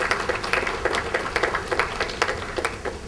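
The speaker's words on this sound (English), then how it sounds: "So can we give them all a round of applause?" Audience applause at a music and leadership talk for a graduating class and alumni, a steady mid-distance wash of many hands clapping with scattered sharper claps throughout, fairly even in level.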